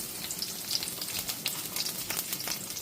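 Garlic and green chillies crackle and spit in hot oil, a close, steady sizzle with sharp pops scattered throughout and no voices.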